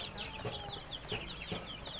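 Chickens cluck on a poultry farm raising Tiger and Fayoumi breeds, with short, repeated calls and a fairly close, steady flock murmur throughout.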